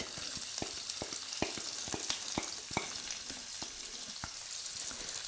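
A medium-sized onion fries in a pan for a cauliflower and pea curry, with a steady soft sizzle broken by regular sharp clicks and taps of a spoon stirring against the pan.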